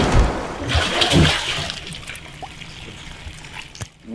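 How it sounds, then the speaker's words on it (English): Water runs from a faucet in a steady rushing stream, loud at first and fading lower toward the end, with no talk over it. "You might want to turn off the faucet."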